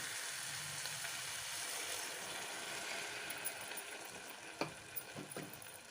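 Bottle gourd curry frying in a pan gives a soft, steady sizzle, with a few sharp clicks and scrapes of stirring near the end, quiet and close, with no voices.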